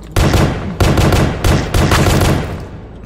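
Full-auto gun in the game Pony Factory, four loud close bursts of rapid automatic fire, each trailing off briefly before the next, with no talking.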